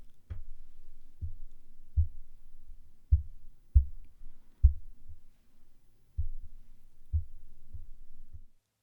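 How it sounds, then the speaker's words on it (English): A series of dull, low thumps and knocks, about a dozen irregular bumps against a desk and microphone stand, heard through a 512 Audio microphone, close and resonant, with no talking. "Now I'm going to bump the desk and the stand for the microphone."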